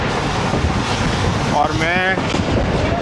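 A packed Pakistan Railways Rafar railcar runs on a morning trip, heard from its open door as a constant loud rush of wind and rolling rumble, with someone briefly speaking over it.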